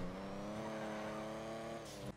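James Bond's car in the video game GTA 5, a steady sustained engine drone with strong harmonic tones held at even pitch, ending in a brief change near the end, with no talk.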